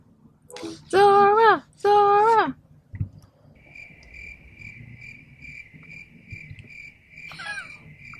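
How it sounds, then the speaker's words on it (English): A steady high cricket chirp rings continuously in a quiet setting, after two long loud howling vocal tones at the start. "Crickets"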